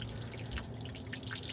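Coolant water dripping from a leaking freeze plug on the engine block of a 1978 Ford Country Squire, a quiet run of quick irregular drips over a low steady background hum, with no speech.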